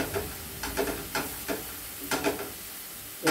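Garlic and green chili sauté in hot oil for rice vadai, giving a soft, steady sizzle broken by short scraping bursts as a spoon stirs the pan several times, close and fairly quiet.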